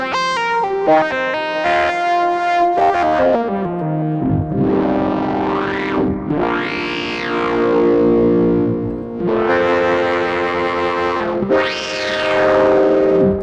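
A gritty, distorted analog synthesizer through a Moog Spectravox vocoder plays stepped notes, then sweeping filtered tones that rise and fall in slow, vowel-like swells.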